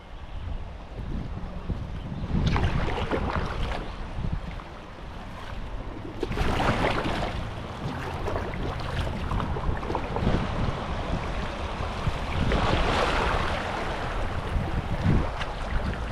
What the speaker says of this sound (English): There's water flowing through both.